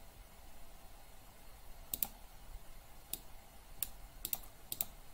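A few faint, crisp keystrokes tap on a computer keyboard, scattered singly and in quick pairs over a soft background hiss.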